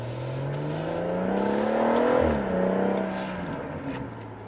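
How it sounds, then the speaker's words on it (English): Tuned BMW M140i with a plug-in performance box, the engine droning and rising in pitch as it pulls, then easing off with a brief turbo whoosh, heard from inside, steady and moderately loud with no talking. "You get a few more sort of whooshes coming out as well from the turbo."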